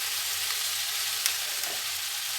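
Cumin powder and other ground spices stir-fried in oil in a pan, giving a steady close sizzle with faint scraping from stirring and no talk.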